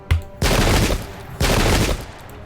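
Musket volley fire in the Pike and Shot video game: two loud, dense crackling fusillades, each a rolling burst of many overlapping shots lasting about a second, with no talk.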